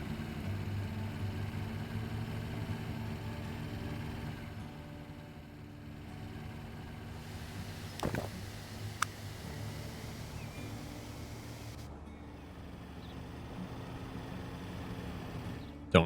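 In Transport Fever 2, a game vehicle engine with an old Volkswagen character runs as a low, rough, steady drone at modest volume, broken by a couple of brief clicks.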